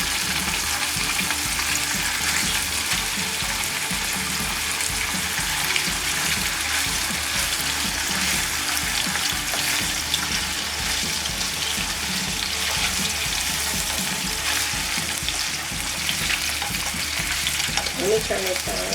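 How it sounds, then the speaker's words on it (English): Fresh salmon fries in olive oil with a dense, constant sizzle and crackle close by, holding steady throughout with faint stirring and clinks underneath. "take your fresh salmon and you just want to go ahead and put it in that olive oil"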